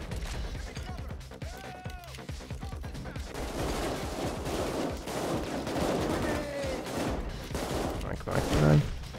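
Light machine gun fire in Payday 2, sustained rattling bursts in a busy firefight with scattered other shots, fairly loud throughout and swelling near the end, with a voice heard under the gunfire.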